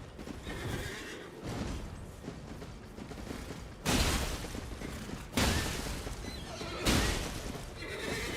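A horse whinnies in the video game Elden Ring among clattering combat sounds, with several loud bursts spaced a few seconds apart over a busy background.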